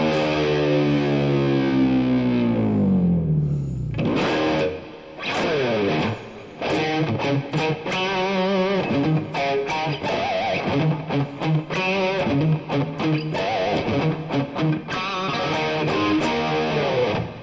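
Electric guitar played through a lightly set distortion effect, a sustained chord ringing out and then choppy strummed chords and riffs, loud and upfront with no talking.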